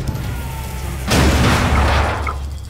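A grenade in a video game goes off with a sudden loud blast about a second in, then a sustained roaring, crackling rumble fades slowly over the following seconds.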